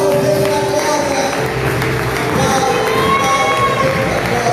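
A church congregation claps together in praise, a dense, steady wash of hands that stays loud throughout, mixed with crowd noise and scattered voices.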